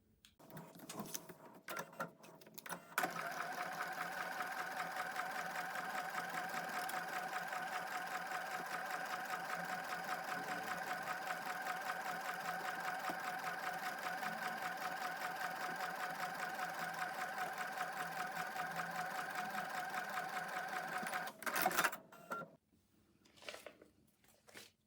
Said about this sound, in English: I'm going to put a clip in that and take it over to the sewing machine.